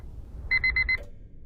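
An alarm clock beeps in a quick burst of four electronic tones over a faint background hum.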